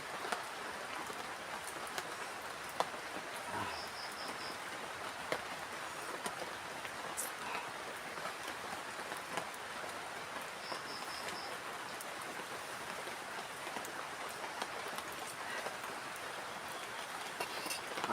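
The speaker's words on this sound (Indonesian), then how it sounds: "Tapi ini hujannya masih turun." Steady rain falls at a night campsite, a dense even patter of drops on surfaces lasting throughout, with faint chirps and occasional small knocks in the background.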